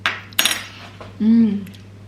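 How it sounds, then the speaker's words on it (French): A fork mashing a halved avocado in a bowl: a couple of sharp metal clinks and scrapes against the dish, close up, with a brief faint voice-like tone near the end. "Mon avocat, je l'écrase à la fourchette"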